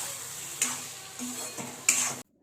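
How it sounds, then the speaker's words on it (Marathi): Finely chopped onion sizzles in hot oil in a wok, a steady soft hiss broken by a few clinks and scrapes of a stirring spoon against the pan. "कढईतलं तेल झालेलं आहे गरम आणि यामध्ये आता मम्मी घालतायत बारीक चिरलेला कांदा"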